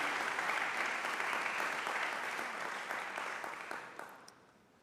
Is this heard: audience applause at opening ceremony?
yes